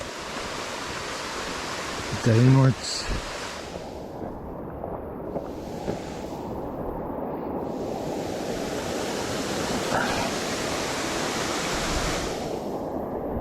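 Waterfall pouring beside a small bridge on the Cape Wrath Trail in the rain, a steady close broadband rush that fills the whole clip, with a brief louder disturbance early on and a single short spoken word.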